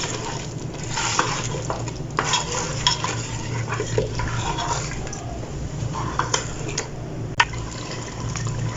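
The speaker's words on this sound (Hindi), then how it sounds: "डाल के तो अच्छे तरीके से मिक्स कर लूँगी।" Crushed onion being stirred by hand into frying mutton korma, with steady scraping and mixing over a low sizzle and occasional sharp clinks, close and continuous with no talking.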